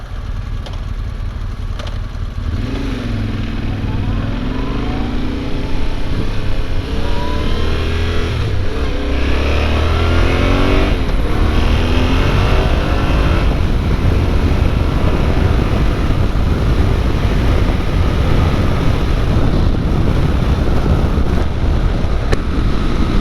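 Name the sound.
riding a 2022 Yamaha Tenere 700 motorcycle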